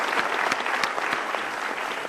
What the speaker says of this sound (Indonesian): Kita berikan tepuk tangan untuk jawaban Anda.